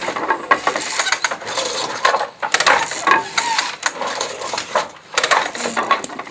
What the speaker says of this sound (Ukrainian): Вот поднялись, э, поднялась ремиска и поднялись ниточки.